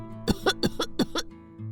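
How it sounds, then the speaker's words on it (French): A toy baby doll gives a run of about six short, rhythmic coughs at close range over a steady low electronic hum, then falls quiet. "Oh, le pauvre, il tousse beaucoup."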